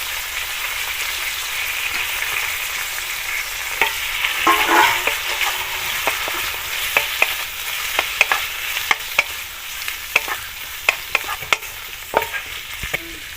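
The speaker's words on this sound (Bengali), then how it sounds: "এবারে আমি চিংড়ি মাছগুলো দিয়ে দিলাম।" Prawns frying in a pan, with a steady close sizzle broken by sharp scraping and clacking taps from stirring that grow more frequent toward the end.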